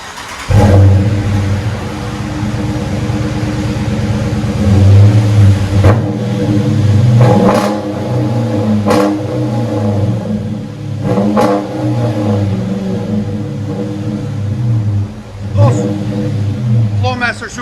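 A Dodge Charger R/T with a 5.7L Hemi and Flowmaster Super 10 mufflers idles with a deep, loping rumble and then revs in several sharp throttle blips up close, with a voice talking over parts of it.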